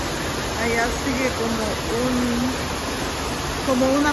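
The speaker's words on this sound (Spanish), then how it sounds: "y una cascada allá, sigue" Steady rushing water from a waterfall fills the background while a person talks over it.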